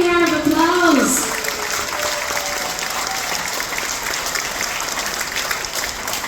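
Audience on a Royal Caribbean cruise ship applauds active duty military personnel at a veterans ceremony: broad, steady clapping fills the room, louder at the start, with a voice trailing off over the opening second.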